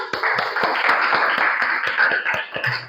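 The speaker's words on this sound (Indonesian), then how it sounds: "Kalau tidak ada, tepuk tangan dulu" Students in a classroom clap together briefly at the end of a lesson, a moderately loud, dense patter of hands lasting a few seconds.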